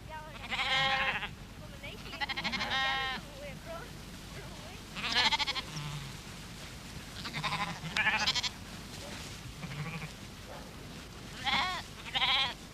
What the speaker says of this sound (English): the sheep are rounded up for shearing